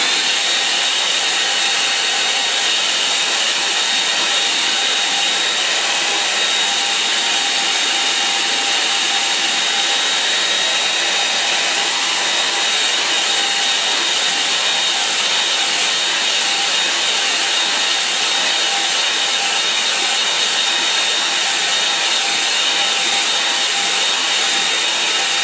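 A hair dryer blasts loud and close over a wet painting, a constant roaring hiss that stays unbroken and even for the full length, with no voices.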